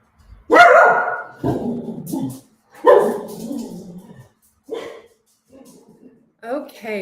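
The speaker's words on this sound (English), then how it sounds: "my dog starts barking right when we go live" A pet dog barks in several short bursts indoors, mixed with a person talking close by; the barks come in uneven clusters with brief pauses between.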